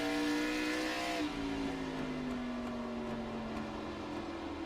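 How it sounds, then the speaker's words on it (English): Race car engines in the iRacing video game at North Wilkesboro drone at a steady, fairly loud level and rise in pitch as the cars come off a corner, with no voices. "Listen to the engines when they come out of the corner."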